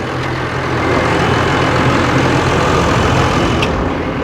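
A farm tractor's engine idles nearby in a steady, loud, low rumble that continues without a break, with no voices.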